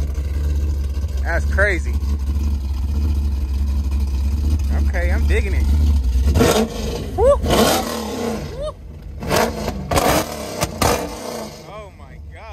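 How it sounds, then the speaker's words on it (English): A Bentley Flying Spur fitted with an aftermarket cam and exhaust rumbles at a loud, lumpy idle, then barks through sharp revs, with men exclaiming over it. "It sounds like he got a cam and exhaust and everything."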